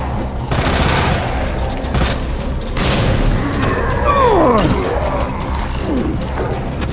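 Grenade blast and gunfire in the video game Resident Evil 2 Remake, a loud booming roar with rapid shots, followed by swooping creature-like growls over a dense, constant game soundtrack.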